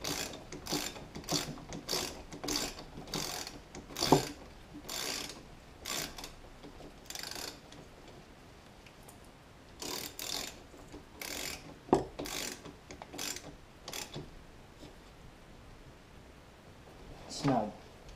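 Ratchet clicking in short bursts while snugging up a bolt during an oil change on a Kawasaki KX450F dirt bike, close and fairly quiet with small metallic knocks between strokes.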